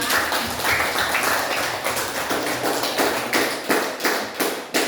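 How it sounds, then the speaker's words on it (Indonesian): A classroom of students applauds a group, producing a dense, loud patter of many hands that holds steady for several seconds, then thins into a few sharper, scattered claps near the end. "Mari kita tepuk tangan untuk kelompok 2."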